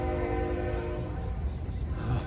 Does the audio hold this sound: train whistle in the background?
yes